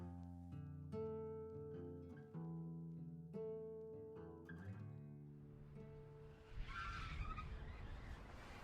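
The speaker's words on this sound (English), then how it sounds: "The tires squealed as the van drifted dangerously close to the side of the road." Van tires squeal in a skid as the van drifts toward the roadside; a swell of broadband skidding noise arrives in the last couple of seconds, after a stretch of melodic music.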